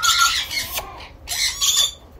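Lory parrot squawking, two loud harsh close calls separated by a short pause.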